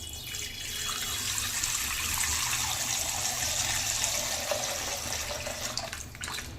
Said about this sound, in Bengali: আমি হাফ লিটার দুধ দিয়ে দেব।